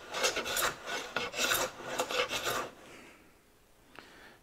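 Antique stop chamfer hand plane cutting highly figured wood, a series of rhythmic rasping strokes, close and clear, about six passes then fading to quiet.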